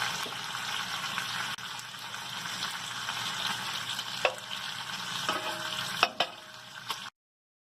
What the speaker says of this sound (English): So first you put some butter in the pan.